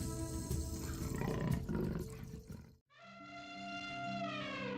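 A lion roars in the savanna: loud, rumbling bursts fill the first part, then after a brief gap a long, sustained, tonal roar carries on strongly to the end.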